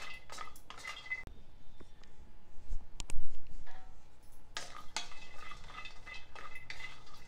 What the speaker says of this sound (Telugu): కాజు, అక్రోట్, పిస్తా ఇవన్నీ కూడా వేగినాయి కదా